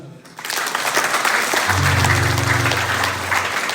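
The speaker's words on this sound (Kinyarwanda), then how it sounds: "Mwabonye ko ari gahunda mwabahereza amashyi bano bana" Audience applause for children at a Master Guide ceremony in Utica SDA church: dense, loud, sustained clapping starts almost immediately, and a steady held tone joins partway through.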